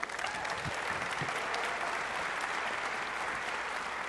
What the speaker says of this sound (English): Everybody, please give a big round of applause for Travis Robertson.